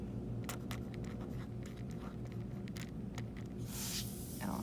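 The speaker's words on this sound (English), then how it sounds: "I'm going to go ahead and write it." Pen scratching out a balanced chemical equation, a run of short, faint scratchy strokes with brief pauses, close by and without talk.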